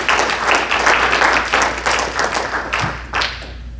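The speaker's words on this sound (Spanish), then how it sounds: "Dale un fuerte aplauso al Señor." A church congregation claps loudly and close, strong uneven bursts of applause with a few heavier thumps, filling the whole stretch before easing slightly at the end.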